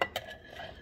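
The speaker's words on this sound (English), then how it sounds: "stir it up" A quick metal clink and scrape as cheese is stirred into a dish, one short close utensil sound against the container.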